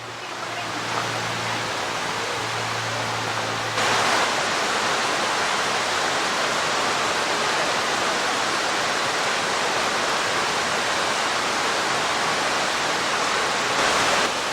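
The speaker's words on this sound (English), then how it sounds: "And another waterfall." A waterfall at Watkins Glen State Park roars as a steady, full rush of falling water, loud and near, with a brief low hum early on and no clear talk.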